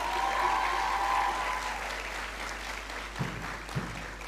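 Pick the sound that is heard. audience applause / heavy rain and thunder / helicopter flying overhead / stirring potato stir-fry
audience applause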